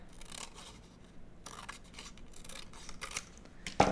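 Scissors cut through printed paper for making greeting cards, a series of quiet crisp snipping strokes up close, ending with a small sharp click.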